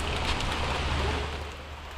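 Evening rain falls steadily outdoors, a dense, close hiss of drops with a low rumble underneath and no talking.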